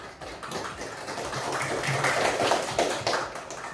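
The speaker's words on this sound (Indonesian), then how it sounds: "Tepuk tangan dulu untuk kita semua." An audience of students in a classroom lesson claps together in a dense patter of hand claps lasting a few seconds, fairly close and steady, with no talking.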